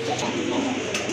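Pigeons being kept for sale, a soft, low cooing close by, one short call rolling on through the moment with no one talking.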